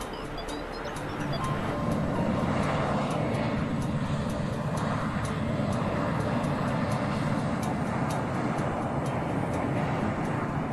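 A Boeing 757 on its landing approach, a steady broad engine roar with airflow noise that holds at a fairly even loudness throughout, with no voices over it.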